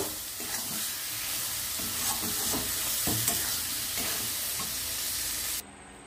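Taro leaves with prawns are stirred in a hot pan as the water cooks off, a steady loud sizzle with scraping spatula strokes close by that cuts off abruptly near the end.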